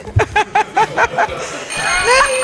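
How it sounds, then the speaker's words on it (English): A rapid series of about seven sharp bell rings signals the end of a round, followed by a busy hubbub of voices and a lingering tone. "The bell's gone."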